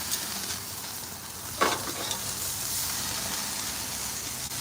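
Steak searing in a hot pan, a continuous close, loud sizzle and hiss with one brief sharper crackle partway through, no talk over it.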